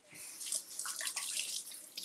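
Blueberries rinsed under a running kitchen tap, a steady hiss of splashing water lasting about two seconds with small shifts as the berries move under the stream.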